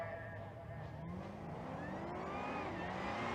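A 2016 Corvette drag racing down the left lane of a strip at a drag-and-drive event, its steady engine roar rising in pitch as it accelerates, loud and continuous, with faint crowd and announcer noise beneath.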